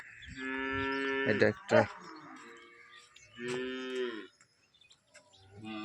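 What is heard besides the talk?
cow mooing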